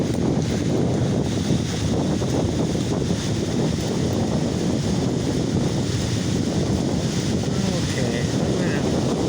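Strong, heavy wind buffets the microphone on an outdoor bike trail, a loud continuous low roar with gusty rumbling throughout; a voice briefly speaks at the start.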